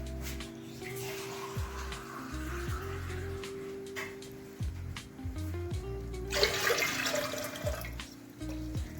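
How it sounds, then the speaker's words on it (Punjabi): Glasses of water are poured into a small pressure cooker for Punjabi-style saag, heard as two short splashing pours about five seconds apart over steady background music. "ਆਪਾਂ ਇਹਦੇ ਵਿੱਚ ਪਾਉਣੇ ਤਿੰਨ ਗਲਾਸ ਆਪਾਂ ਇਹਦੇ ਵਿੱਚ ਪਾਵਾਂਗੇ ਪਾਣੀ ਦੇ"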